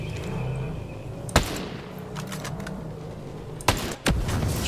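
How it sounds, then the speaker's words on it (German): A rocket is fired at a drone in the video game Ghost Recon Breakpoint. A sharp blast stands out against a low ambient game background, followed a few seconds later by a second burst of loud impacts. "Schießen wir einfach mal eine Rakete rein."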